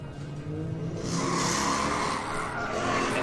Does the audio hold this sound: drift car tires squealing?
yes